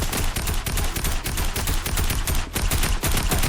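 Rapid, dense gunfire from a shooting video game rattles without a break for several seconds, loud and close, with no talking over it.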